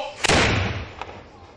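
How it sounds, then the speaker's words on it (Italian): A historical cannon fires a single booming shot at an outdoor festival in Lucca for San Paolino, one of twelve commemorative blasts; the loud, close report rolls out into a long echoing rumble. "12 colpi di cannone per evocare il miracolo del 1664"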